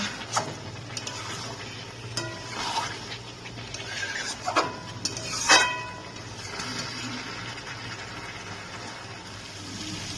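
Chicken pieces are stir-fried in a pan, a low simmering sizzle punctuated by a few sharp scrapes and clatters of a spatula against the pan, quiet and close, no talking.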